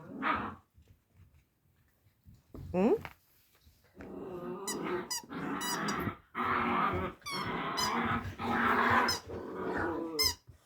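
Six-week-old puppies play-fighting, with bursts of small growls, yips and squeaky snarls coming close and fairly loud in repeated bouts, and a person speaking between the scuffles.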